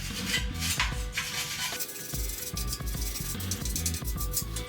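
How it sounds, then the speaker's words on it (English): A stainless steel wire brush scrubs soot off a tack weld on a C10 truck's front subfloor, giving a continuous close scratchy rasping over a faint tonal background. "I'm just gonna grab my stainless brush here and just kind of clean it back a little bit"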